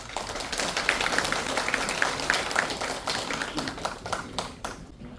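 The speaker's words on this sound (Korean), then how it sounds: "큰 박수로 맞이해 주시기 바랍니다." Audience applause welcoming an invited lecturer at a community residents' assembly in Dongi-myeon, Okcheon: a steady, dense patter of many hands clapping throughout, fading slightly near the end.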